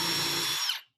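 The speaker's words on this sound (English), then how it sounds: "we're going to drill until there's just enough taper there for a screw head to fit in nicely" A power drill whines steadily as it bores a countersink hole into a wooden chair leg, a short close buzzing burst that cuts off abruptly.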